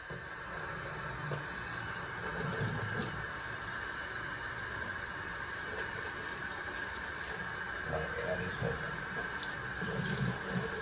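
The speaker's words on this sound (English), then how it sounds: "Pour this water in there." Water pours steadily into a kitchen sink during cleaning of a tankless water heater's parts, a continuous splashing, hissing flow that holds even and close for the whole stretch with no talking.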